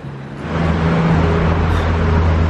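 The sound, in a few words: Porsche GT3 sports car accelerating past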